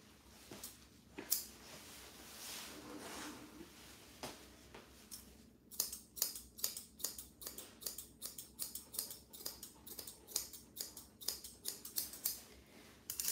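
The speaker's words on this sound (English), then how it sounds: "Let's scissor with some chunkers maybe." Chunker scissors snipping through a Bichon Frise's hair up close during grooming, sparse cuts at first, then a quick, steady run of rhythmic snips.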